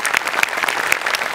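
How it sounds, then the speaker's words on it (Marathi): Loud audience applause after a live comedy performance on a Marathi stage show, dense steady clapping from a crowd with scattered sharper claps, filling the short moment without speech. "मस्त झाला परफॉर्मन्स, जोरदार टाळ्या."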